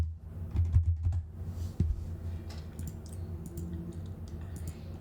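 Someone types notes on a computer keyboard with quiet, close, irregular clicks and taps in short bursts over a soft background hum.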